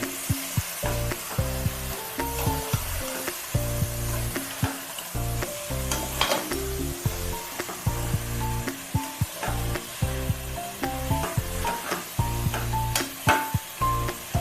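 Country chicken curry, Konaseema-style naatu kodi iguru, sizzles steadily in a pan while being stirred, with repeated scraping strokes and bubbling throughout, close and fairly loud with no talking.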